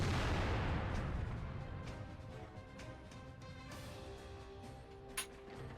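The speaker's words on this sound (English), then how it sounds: "Huge shot there. Decimating that tier 9 tank." The big gun of an Object 704 tank destroyer with a BL-10 cannon fires once in World of Tanks, a heavy boom at the start that fades into a long rumbling decay, with a small pop near the end.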